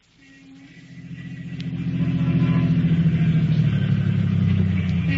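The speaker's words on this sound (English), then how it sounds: "Two men were riding in a car which was pulling to a stop in front of a house in East Baltimore." A car engine rumbles low and steady in a radio drama scene as the car pulls to a stop in front of a house in East Baltimore, growing louder over the first two seconds and then holding a close idle.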